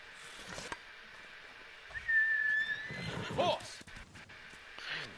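A horse in a PS4 video game gives one thin, high whinny in the middle, fairly faint against a low game background, with a few light hoof sounds and no clear talking.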